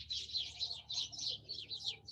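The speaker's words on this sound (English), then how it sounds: "Pardon the birds, I'm recording outside." Small birds chirp outdoors in quick, bright bursts, a steady stream of repeated tweets at moderate distance with no one talking.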